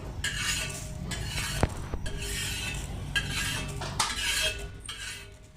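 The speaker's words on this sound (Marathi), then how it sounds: "मध्यम ते कमी गॅसवर आपल्याला खरपूस असे हुलगे भाजून घ्यायचे" Horse gram dry-roasted over medium-low heat in a pan, stirred with a metal spoon that gives repeated close scraping sweeps and light clinks against the pan.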